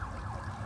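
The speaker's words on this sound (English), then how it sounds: "nice silent sirens here in Hollywood" Emergency vehicle sirens on a Hollywood street near Sunset Boulevard, a wailing tone sweeping up and down over steady low traffic rumble, moderately distant.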